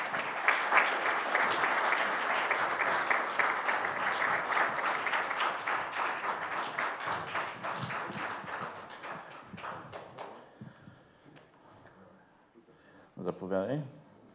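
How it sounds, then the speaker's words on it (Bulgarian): An audience at a conservative debate club applauds loudly and steadily, the clapping thinning out and fading after about ten seconds before a voice briefly speaks near the end. "Аплодисменти."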